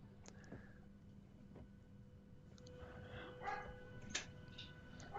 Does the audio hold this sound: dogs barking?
yes